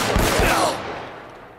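Gunfire from the video game Uncharted: Drake's Fortune on PS4 starts with a quick burst of close, loud shots, then a ringing tail that fades over the next second.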